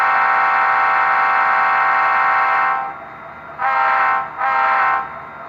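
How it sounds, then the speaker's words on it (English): Loud horn of an Athearn Genesis SD60E model locomotive with a Tsunami 2 sound decoder: one long sustained blast that fades, then two shorter blasts, heard alone. "This locomotive has quite a bit of a loud horn on it."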